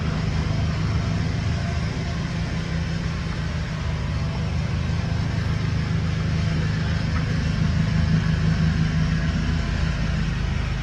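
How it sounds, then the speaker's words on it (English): A neighbour's lawn mower running next door, heard as a steady low engine drone that holds without a break from start to finish. "Next door's got his mower going."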